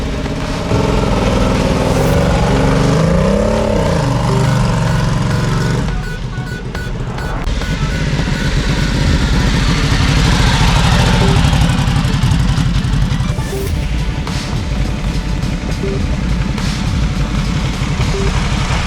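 A tuned Vyrus 988 motorcycle engine idles nearby with a steady throbbing pulse, its loud rumble shifting in tone partway through and continuing evenly afterward.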